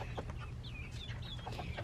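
Chickens and a rooster cluck and chirp in short bursts over a steady low hum, a farmyard fowl sound close by with no talking.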